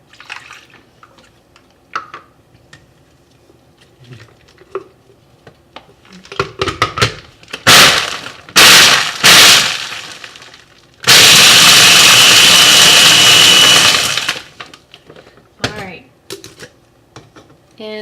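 A blender whirs loudly for several seconds, mixing chocolate Shakeology powder with almond milk, flaxseed and a splash of water, preceded by clattering and pouring noises as the ingredients go in.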